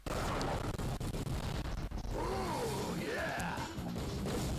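A fire bomb bursts in the Ben 10 Protector of Earth video game, a loud crashing blast amid continuous dense game noise and effects, with rising tonal sweeps following.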